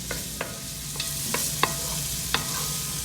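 Onions and garlic sautéing in oil in a laminated cast iron pot for pistachio-saffron Kermani soup, a gentle frying hiss punctuated by about seven crisp, close spoon taps on the pot.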